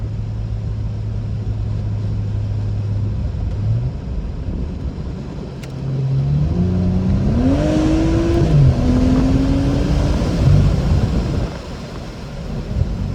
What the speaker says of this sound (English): So yeah, it's OEM spec burbles.